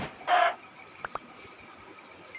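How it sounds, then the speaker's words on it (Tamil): A chicken in Minecraft Pocket Edition gives a short, clear cluck near the start, followed by faint clicks and a couple of quieter in-game sounds against a hushed background. "இங்கே கோழியும் இருக்குது"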